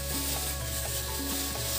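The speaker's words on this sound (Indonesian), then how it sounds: "masak sawi tambah kentang. Jenenge capcay ini Mas ya." Capcay of mustard greens with potatoes stir-frying in a pan, a steady close sizzle with stirring and scraping running throughout, no voices.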